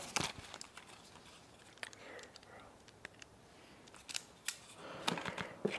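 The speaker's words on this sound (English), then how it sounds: "Cut me a couple pieces of heat shrink right there" Scissors snipping pieces of heat shrink tubing during radiator wiring work on a 1934 Ford coupe hot rod, a few quiet, sharp clicks and snips spaced apart over faint low background murmur.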